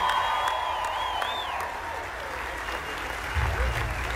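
Applause and cheering from a concert crowd greet the opening singer at Seminole Hard Rock in Hollywood, Florida: a steady, distant wash of clapping beneath a whistle-like tone sweeping through the first half.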